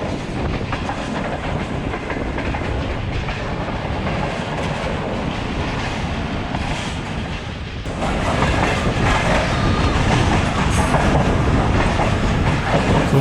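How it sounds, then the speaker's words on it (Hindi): Allama Iqbal Express on the Sialkot to Lahore run, rolling through Badami Bagh station with a loud, steady rumble and clatter of wheels on track that swells louder partway through; no voices. "खूबसूरत ट्रैक साउंड के साथ इस वक्त हम बादामी बाग स्टेशन से थ्रू पास कर रहे हैं"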